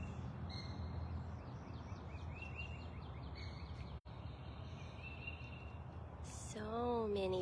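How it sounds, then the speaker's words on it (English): Birds chirp and call outdoors at a big cat sanctuary, faint repeated tweets over a steady background hiss, with a brief sharper call near the end. "So many bird sounds."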